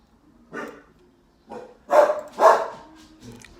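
A dog barks several times close by, a few short woofs spaced out, the middle ones loudest.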